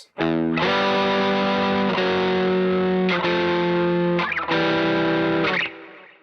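A distorted electric guitar plays descending thirds, sustained two-note intervals stepping downward, each ringing loud before sliding to the next, with no voices.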